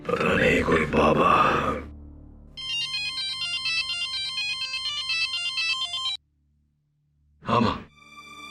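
A phone ringtone plays an electronic melody of repeating bright tones for several seconds. Grunting vocal sounds come just before it, and a short vocal burst follows after it stops.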